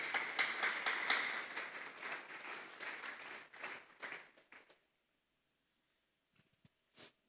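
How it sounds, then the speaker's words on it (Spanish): Congregation applause in a church service, dense steady clapping for several seconds that thins out and stops, followed by near silence with a few stray claps. "Vamos a darle un fuerte aplauso pues al Señor"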